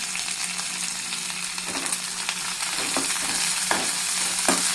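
Onion, garlic, dried red chillies and curry leaves sautéing in a hot pan give a steady, dense sizzle throughout, with occasional soft scrapes of a spatula stirring, close up and without voices.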